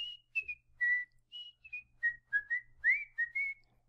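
A person whistles a melodic tune alone in a quiet room, clear close notes in short phrases with brief pauses and slides between pitches.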